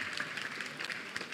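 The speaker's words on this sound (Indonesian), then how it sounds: "Tepuk tangan buat Pak Jabir." A crowd claps continuously in a dense patter at a South Sulawesi anniversary celebration, moderately loud and steady throughout a short burst.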